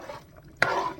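A spoon stirs peanut butter sauce for pad thai in a hot pan, giving a soft scrape with a brief louder clack partway through and a faint sizzle behind it, close and quiet.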